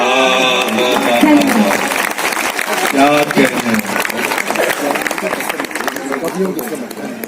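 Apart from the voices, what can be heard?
audience applause at poetry recital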